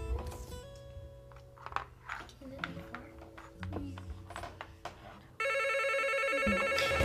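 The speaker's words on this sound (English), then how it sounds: "Don't answer the phone." A telephone bell rings loudly and steadily in the final couple of seconds, following a stretch of indoor sounds and voices.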